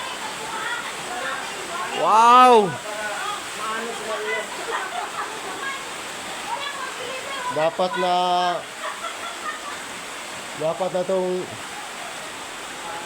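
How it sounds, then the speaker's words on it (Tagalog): Heavy rain pours steadily on a house with a leaking nipa roof, a constant hiss under the whole stretch while a person talks and exclaims several times. "Namutan kami ng malakas na ulan dito sa bahay ni Jokes in TV"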